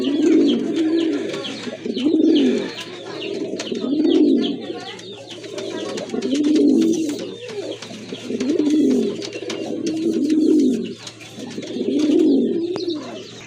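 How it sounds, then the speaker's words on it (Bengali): A pair of quality pigeons coo in slow, regular swelling phrases, about seven rounds repeating every two seconds, close and clear over a faint steady background hum. "কোয়ালিটি ফুল এক জোড়া কবুতর"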